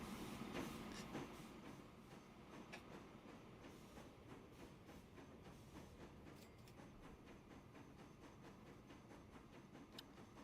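Train rolling past in a train simulator game, a continuous rumble with faint clickety-clack of wheels on rail at a moderate distance, no talk.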